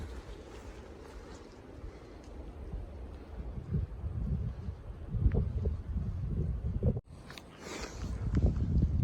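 Wind buffets a hiker's microphone on a mountain ridge along the Appalachian Trail, a steady rumbling roar that swells and gusts louder toward the end, with a brief drop in the middle.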